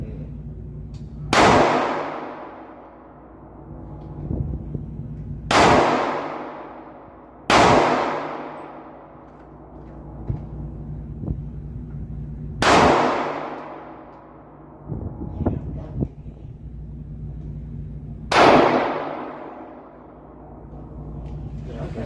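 Five loud gunshots ring out at an outdoor shooting range in Louisiana, each a sharp crack with a long echoing decay, spaced several seconds apart with faint background noise between.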